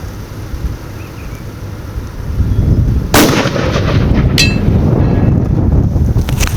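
.338 Lapua rifle fired at a 500-yard steel target outdoors, one loud sharp report over gusty wind noise, followed shortly by a fainter, higher ping from the distant steel.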